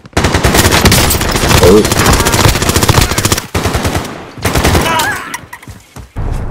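Rapid machine gun fire in a PlayStation 4 shooter game, loud dense bursts rattling almost continuously with brief gaps, with a player's short exclamation over it.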